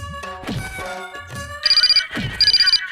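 A bright electronic ringtone chirps in two short bursts, mixed with brief thumps and a plucked melodic tune.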